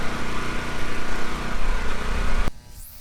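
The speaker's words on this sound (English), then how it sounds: "Now I cut it with the grinder." An angle grinder cuts through the metal of a dump truck bed with a loud, steady whining roar that stops abruptly after a couple of seconds.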